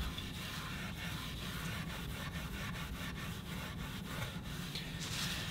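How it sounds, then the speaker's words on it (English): Quadruple-grade steel wool rubs along the grain over a stained kit guitar body, making a faint, continuous scratchy hiss with a rhythmic back-and-forth pulse of strokes under low background rumble. "I'm using the quadruple grade steel wool"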